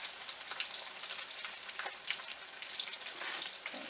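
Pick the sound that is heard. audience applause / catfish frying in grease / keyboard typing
catfish frying in grease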